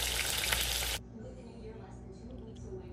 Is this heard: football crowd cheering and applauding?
no